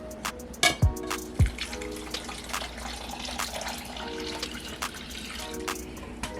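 Water pours into a bowl already holding yeast and sugar for homemade bread, with a few splashy bursts and light knocks against the bowl at the start before a quieter trickle.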